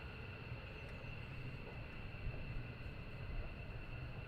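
F-15 jet engines spool up at RAF Lakenheath, a faint distant whine and roar sitting over a steady rumble, with no voices.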